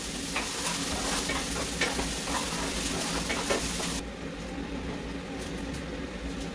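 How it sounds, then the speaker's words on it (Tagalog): Garlic and onion sauté in a pan with a continuous sizzle and scraping stirs, loud and close for four seconds before dropping to a softer, duller frying hum. "First, gisa muna natin yung bawang at sibuyas."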